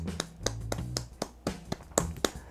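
Hands clap in an irregular series of sharp, close slaps during a game's end credits, with a low hum beneath and a few faint voice traces in between.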